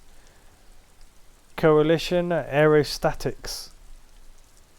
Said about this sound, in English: The rain will not let up anytime soon.